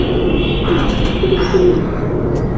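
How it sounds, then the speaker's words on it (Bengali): A Ferozpuri pigeon coos in short, low phrases against a steady wash of background noise, fairly close and moderately loud. "এটা একটা ফিরোজপুরি কবুতর"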